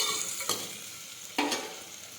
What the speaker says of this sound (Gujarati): હવે આપણે બધા મસાલા છે તે નાખી દઈશું.